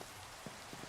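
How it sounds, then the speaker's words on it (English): Steady rain falls in the Minecraft video game, a dense continuous hiss with a few soft thumps, heard alone without talking. "Oh, it's raining"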